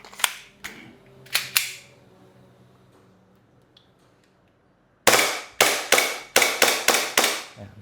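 Airsoft Glock 18C pistol firing single semi-auto shots, first three sharp cracks spaced apart, then a quiet stretch, then a rapid run of loud close snaps.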